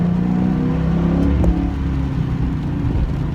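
Engine noise from a car fitted with a Pedal Commander throttle controller: a steady, loud, close-up drone that holds level throughout with no distinct rev spikes and no voices.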